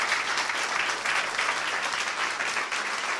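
A church congregation applauds steadily in praise of Jesus, a dense, even wash of clapping from many hands that holds throughout without a break.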